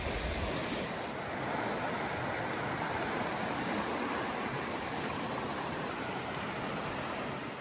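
Water of a cold outdoor creek flows steadily, a broad continuous rushing wash close to the microphone with some wind mixed in, no talking, holding even throughout.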